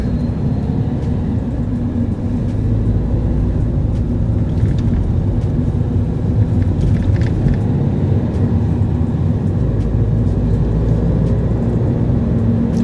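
A car pulls away under gentle acceleration on a city street during a first driving lesson, its steady engine and road rumble filling the cabin continuously and fairly loudly, with no talk heard.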